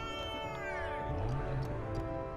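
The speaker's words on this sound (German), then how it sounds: "Lautes Kätzchen." A kitten in the video game Lego Jurassic World meows in a clear, drawn-out tone over a steady hum of game music and background noise, with no talking.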